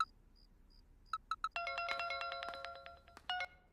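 A phone ringtone plays: a few short beeps lead into a loud, sustained multi-tone melodic ring that repeats in bursts, close and clear with no talking over it.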